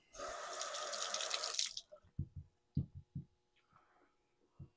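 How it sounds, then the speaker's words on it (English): Tap water runs steadily as a Parker 78R safety razor is rinsed under a barber's faucet, a loud broadband rush for under two seconds, then stopping, followed by a few soft knocks and drips. "I'm going to do a quick little rinse here"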